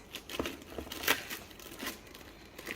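Plastic bag being handled and crinkled, giving a string of soft, irregular rustling and crackling bursts up close, with no talking.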